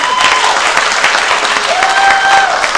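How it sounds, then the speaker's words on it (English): Audience applause at a Ravenna School District board meeting, steady loud clapping from a room of people that fills the whole stretch, with a faint murmur beneath. "go ahead, big clap."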